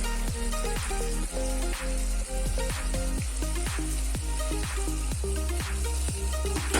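Honey going into a sizzling sauce for honey chili potatoes, a dense crackling sizzle with rapid spattering pops and clicks throughout, loud and close, no talking.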